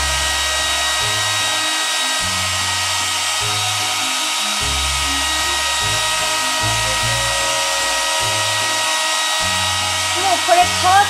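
A hair dryer runs steadily and close by, drying hair at home after a nightly skincare routine, its constant airy whir broken by short pulsing motor tones throughout.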